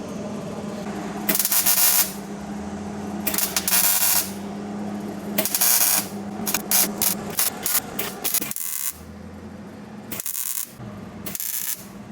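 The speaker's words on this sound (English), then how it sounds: "Just gotta finish welding this guy up." Intermittent MIG welding on a body panel of a worn Honda Integra, loud crackling buzzy bursts of a few seconds each separated by short pauses, growing shorter and choppier toward the end.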